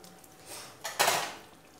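A utensil briefly clinks and scrapes against a pan while stirring a milk, egg and sugar mixture for semolina and egg halwa, producing a short, close clatter in a quiet kitchen.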